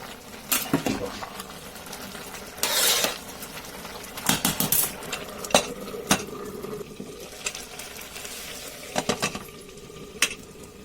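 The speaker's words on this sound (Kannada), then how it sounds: "ಮತ್ತೆ ಒಂದು ಸತಿ ಚಮಚದಿಂದ ಮಿಕ್ಸ್ ಮಾಡಬೇಕು" A spoon stirs home-style pulao in a metal pot, giving scattered scrapes and clinks in short bursts, with a soft sizzle underneath and quiet gaps between strokes.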